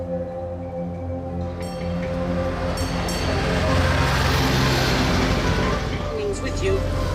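A train in Osaka rumbles steadily along with a low hum and rattling wheels, growing a little louder midway; faint voices murmur in the background.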